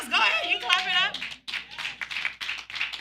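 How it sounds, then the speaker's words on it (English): A church congregation claps along during a sermon, a rapid stream of close hand claps mixed with speech and voices over them. "You can clap it up."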